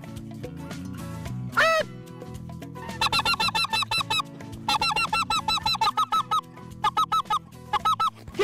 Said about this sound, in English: The birds are fixing to get up.